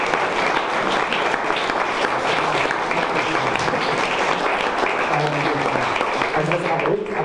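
Audience at a panel discussion on the NSA scandal applauds steadily, a dense, even wash of clapping that fills the whole stretch at close range with no talk over it.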